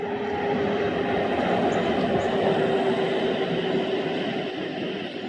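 Guided buses rolling along the O-Bahn busway, a steady loud rushing roar with a faint whine and continuous rumble, close by and unbroken.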